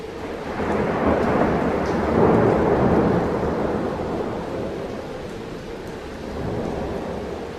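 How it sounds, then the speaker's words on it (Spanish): Steady heavy rain with rolling thunder rumbling through it, loud and continuous, the storm swelling midway and then easing slightly. "Solo se oía el ruido de la lluvia y de cuando en cuando los bandazos del viento."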